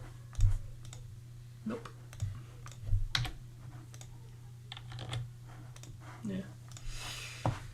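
Computer keyboard typing during work on a groceries list app, a few scattered keystroke bursts rather than steady rhythm, with a person briefly speaking over a low steady hum.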